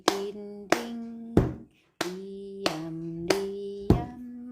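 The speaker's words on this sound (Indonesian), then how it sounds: "Kita menggunakan bunyi-bunyiannya pukul meja dan tepuk tangan" Rhythmic percussive hits on a table and hand claps, evenly spaced about every half second to a children's song beat, with a sung melody held between the sharp strikes; close and moderately loud, with one brief pause.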